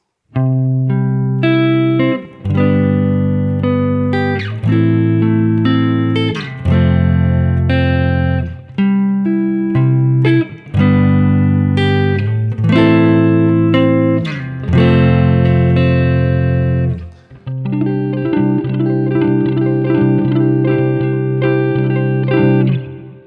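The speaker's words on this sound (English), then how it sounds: "If you hold a chord and play the notes in a single line" An electric guitar rings out held chords while a single-note melody weaves over them, with effects and reverb, loud and continuous, no voices.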